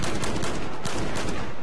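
A USAS-12 automatic shotgun firing fragmentation rounds in Battlefield 4 blasts in a rapid, continuous burst of loud, overlapping shots and explosions, with no pauses.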